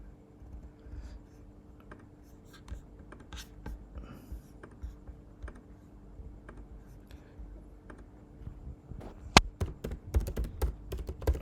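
Quiet, irregular keystrokes on a computer keyboard patter along close by, with sparse taps that grow into a quicker, louder flurry of clicks near the end.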